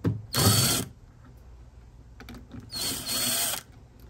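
A power drill run in reverse backs screws out of a Ring doorbell in two short close whirring bursts, separated by a quiet pause.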